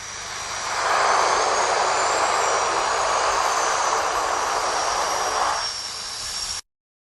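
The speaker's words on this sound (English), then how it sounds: "The pilot must have thought that it's a beautiful day to take this twin otter on a skiing trip." A de Havilland Twin Otter turboprop landing on skis in snowy conditions, its engine drone swelling in, holding loud and steady for several seconds, then cutting off abruptly; no voices.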